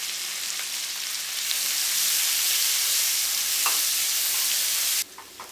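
Onions and garlic sauté in a hot pan with bay leaves, giving a loud, steady sizzle with faint stirring scrapes that runs unbroken until it drops away sharply near the end.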